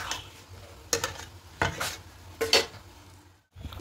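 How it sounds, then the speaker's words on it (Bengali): Jujube pickle is stirred with a spatula as it simmers in a pan, with several distinct scraping strokes against the metal over a soft bubbling background, then a brief pause before another stroke. "মাঝে মাঝে এভাবে করে খুন্তি করে নেড়ে দিতে হবে"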